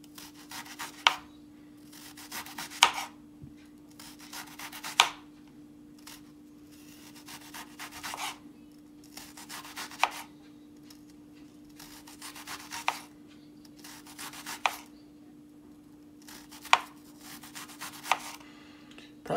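A knife thinly slices a shallot on a cutting board in a home kitchen, with soft rasping strokes repeating at an even pace of about one every two seconds, faint and close, over a low steady hum.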